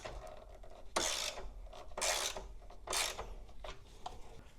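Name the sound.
ratchet with 10mm deep socket tightening car battery hold-down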